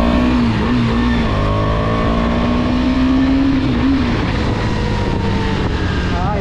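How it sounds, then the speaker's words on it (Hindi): A KTM Duke 250 motorcycle engine hums loud and steady while riding, its pitch rising gradually and then easing, with wind noise blended in throughout. "ये पहली बार ड्यूक 250 राइड कर रहा हूँ"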